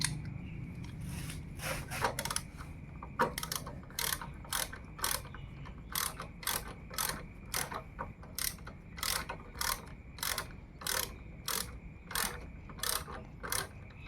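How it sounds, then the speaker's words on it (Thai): A socket wrench fitted with a 10 mm socket tightens a bolt on a vehicle, giving a long run of sharp, evenly spaced ratcheting clicks in quick bursts, close and clear with no talk. "แล้วก็ใช้บลอกเบอร์สิบขันนำเข้าไปก่อน ใช้ปัญแจก็ได้"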